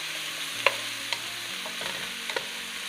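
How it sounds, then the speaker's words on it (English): Mushrooms frying in a pan, added after onions and garlic, give a steady soft sizzle with a few faint clicks of a utensil, close by and with no voices. "And now the mushrooms have gone in."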